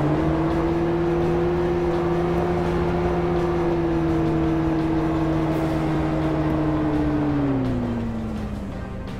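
A Jeep in the survival video game DayZ drives along with a loud, steady engine whine that holds level, then drops in pitch and eases off near the end.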